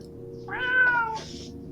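A single cat meow inside the video game Hustle Cat, rising and falling in pitch, close and clear over a steady low hum of background music, with no talk.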